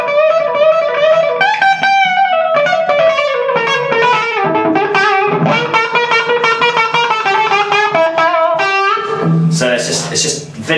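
Electric guitar played through a Marshall Class 5 amplifier in a vintage 60s–70s rock style, with continuous overdriven riffs and bent lead notes that run loud and steady, ending in a burst of harsher noisy strumming.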